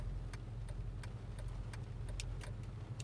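A car's left turn signal ticks in a steady, evenly spaced rhythm of faint clicks over a low, constant engine hum inside the cabin.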